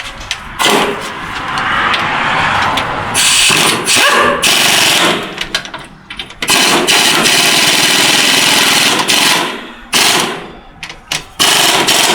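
Impact wrench driving 7/16 bolts while installing a 6L80 transmission, loud close bursts of rapid hammering rattle repeated in several runs with short pauses between them, no talk.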